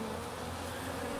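Honeybees hum at an open hive during a spring inspection, a steady, dense buzz that fills the short moment without a break and with no voices.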